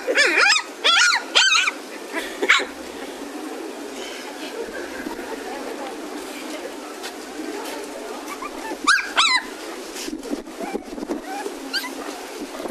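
Several dogs of a Japanese-looking type at Inubou Station make high whimpers and yelps in short bursts near the start and again later, over quiet outdoor background with some bird calls.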